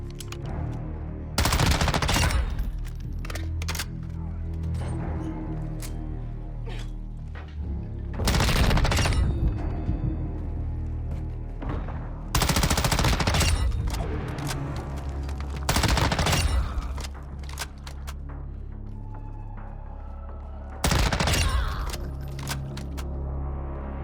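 Sustained automatic gunfire in the Modern Warfare 2 video game, loud bursts repeating every few seconds over a continuous bed of in-game battle noise and music, with no talking.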